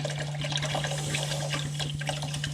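Water pours steadily into a big cooking pot of gumbo in a continuous splashing rush, close by, with a low steady hum underneath.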